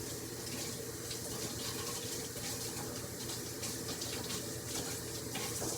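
Key limes are rinsed under a running kitchen tap, a steady close hiss of flowing water splashing into the sink for the whole stretch, with no voices.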